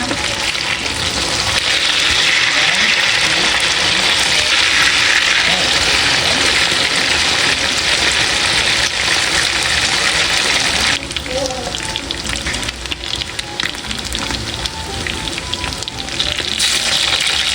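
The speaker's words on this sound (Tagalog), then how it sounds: "Tapos ko na pong iprito po itong yellowfin." Yellowfin tuna fries in a pan with a loud, continuous close sizzle and crackle that runs the whole time. It thins slightly partway through, and no one speaks.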